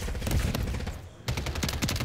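Video game gunfire strikes the player in dense, loud volleys of rapid shots, broken by a brief gap before the firing resumes.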